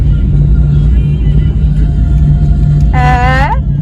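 A car engine rumbles steadily and loudly throughout, close by, as the vehicle is driven during a Mahadev village fair outing; a voice briefly cries out near the end over the engine.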